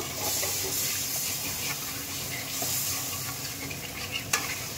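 Spice paste frying in oil with a splash of water added: steady hissing sizzle and steam throughout, with faint stirring scrapes and one brief clink near the end.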